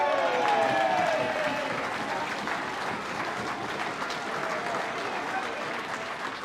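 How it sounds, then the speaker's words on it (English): A crowd at an awards presentation night gives a standing ovation, steady clapping that swells loudest at the start and then holds evenly throughout, with a voice faintly audible over it. "A little standing ovation for Alan, I like it."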